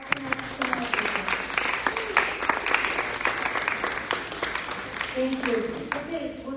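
Audience applause at a community candidates night honouring the youth council, a dense wash of clapping throughout with talk and voices mixed in over it.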